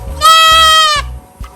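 A six-week-old kid goat gives one loud, close, drawn-out bleat, followed by a short faint call near the end.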